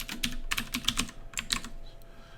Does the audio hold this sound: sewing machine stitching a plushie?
no